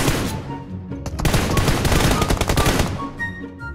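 Rapid bursts of automatic gunfire from a first-person shooter match, loud and close, with dense volleys through the middle and scattered shots at the start and end.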